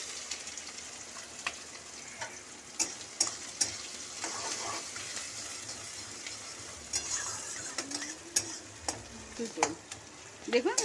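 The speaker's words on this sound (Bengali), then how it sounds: "সর্ষের তেলটা গরম হোক, তারপর আমি সব ফোড়ন দেবো একে একে। দেখুন, আমি এখানে একটা পেঁয়াজ কুচিয়ে দিয়েছি। এবার পেঁয়াজটা আমি ঢেলে দিচ্ছি।" Chopped onion tipped into hot mustard oil for ghugni fries with a steady, close sizzle, punctuated by occasional clinks and scrapes of stirring, with no talking.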